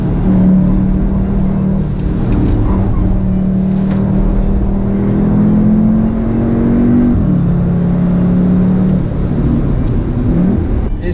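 A Cupra Formentor accelerating on a race circuit, its engine note climbing steadily through the gears with brief shifts, loud and close with continuous road and wind roar, no talking.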